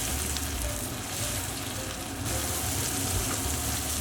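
Chicken pieces fry in a pan until golden brown, giving a steady, dense sizzle with no break. No one speaks over it.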